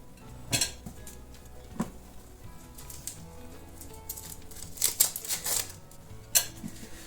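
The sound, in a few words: mashing ripe bananas with a fork on a plate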